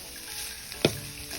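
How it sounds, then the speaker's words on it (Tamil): Ridge gourd sautéing in a pan with salt and asafoetida for thogayal: a continuous sizzle with one sharp utensil clatter partway through, heard alone. "இன்னும் ஒரு 5 நிமிஷம் நல்லா வதங்கட்டும்."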